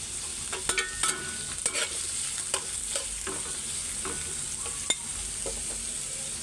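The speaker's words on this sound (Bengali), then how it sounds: "তেল গরম হয়ে গেছে, কাঁচামরিচ পেঁয়াজ দিয়ে দিই।" Green chillies and onion hit hot oil in a pan before radish greens are added, giving a steady sizzle broken by frequent sharp clinks and scrapes of stirring.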